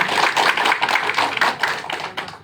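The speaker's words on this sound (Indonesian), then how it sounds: "Tepuk tangan dulu buat Grasindo ya" Dense applause from an audience in a hotel airport lounge, many hands clapping together in a steady, close, continuous burst.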